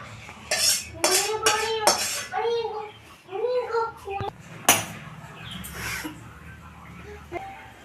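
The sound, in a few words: pot being taken off the stove, dishes clattering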